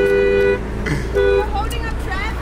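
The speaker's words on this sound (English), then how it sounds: "that's honk, honk, honk." A car horn honks in traffic, two loud sustained blasts with a short gap between them, heard close by with traffic noise underneath.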